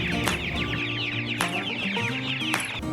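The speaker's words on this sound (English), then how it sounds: "Here's a little rooster I walked in on and he's getting out of here." A young farm rooster clucks and squawks in rapid bursts close by, with short sharp peaks breaking the steady chatter of the flock.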